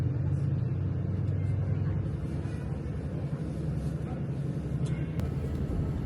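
A train rolls out of Oda station on the coastal line, heard from on board as a loud, steady low rumble and engine drone that stays constant throughout without any speech.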